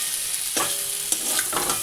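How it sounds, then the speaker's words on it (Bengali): Potatoes with spices fry in a pan with a constant sizzle, broken by three quick scraping stirs of a spoon against the pan. "আমার আলু ভাজা হয়ে গেছে, মশলা দিয়ে ভেজে নিচ্ছি।"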